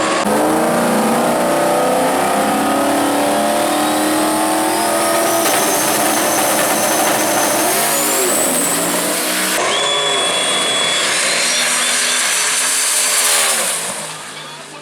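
Drag race cars at World Wide Technology Raceway scream down the strip, with loud, sustained engine roars rising in pitch as they accelerate and overlapping passes, followed by a fade as the cars get farther away.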